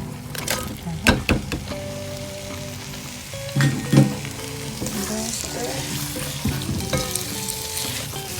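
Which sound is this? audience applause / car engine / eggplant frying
eggplant frying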